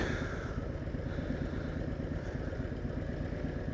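A Harley-Davidson Dyna FXD idles steadily close by, its lumpy engine rhythm and mechanical clatter constant and loud with no voices over it.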